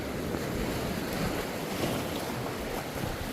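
A steady, broad roar of ocean surf at Cornwallis, Auckland, New Zealand, mixed with wind buffeting the microphone, continuous and fairly loud with no pauses.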